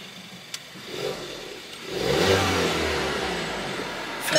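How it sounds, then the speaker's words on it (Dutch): A car engine cranks and catches, then settles into a steady low running hum after a faint click and rustle. "En dan ga ik weer even de auto starten. Jullie horen hem."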